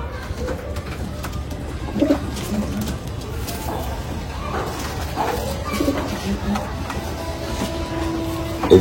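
An old female desi pigeon coos softly close by, with scattered bird calls and someone talking over the sounds.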